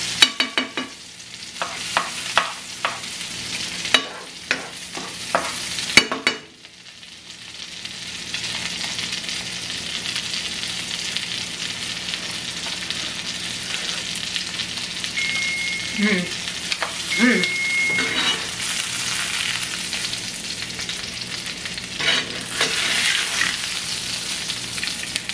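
Salmon frying in a pan and being stirred, with a steady close sizzle running throughout, a few sharp clatters of utensil against pan near the start, and brief talk over the cooking.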